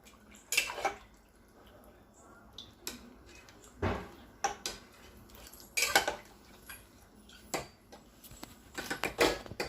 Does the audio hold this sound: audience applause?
no